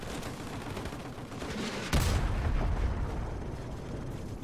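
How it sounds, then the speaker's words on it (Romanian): A rocket launches and explodes in Call of Duty: Modern Warfare Remastered amid ongoing gunfire and rumbling battle noise, with a sharp blast near the two-second mark followed by a sustained roar. "ce-mi place cum se duce racheta asta, e așa de faină!"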